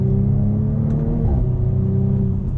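An Audi RS5 R MTM with a tune and tuned exhaust accelerating, a loud sustained engine drone heard from inside as the revs climb steadily, then dip briefly at a gear change and climb again.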